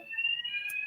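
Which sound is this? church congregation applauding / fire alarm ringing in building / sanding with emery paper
fire alarm ringing in building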